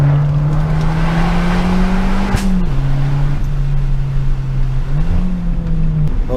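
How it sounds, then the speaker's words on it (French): A 165 hp Abarth car's engine and exhaust drone loudly and close, the pitch rising steadily under acceleration, then dipping briefly with gear changes before climbing again. "l'échappement, ça change tout"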